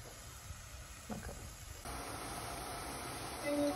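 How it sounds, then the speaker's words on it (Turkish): A pot of salt water boils on a stove, giving a steady steaming hiss with low bubbling that grows louder and fuller partway through, with no voices. "Tuzlu sularımızı kaynatıyoruz."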